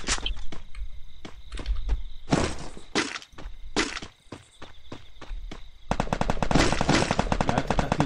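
Gunfire in the video game Free Fire, with separate sharp shots at first, then a dense, rapid automatic burst near the end, loud and close, with footsteps mixed in.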